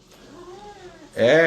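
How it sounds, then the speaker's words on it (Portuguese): A cat lets out a drawn-out meow that rises and falls, followed by a louder, sharper meow at close range, with no talking over it. "O gato falou que não é não."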